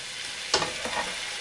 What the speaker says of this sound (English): Give that a good old stir.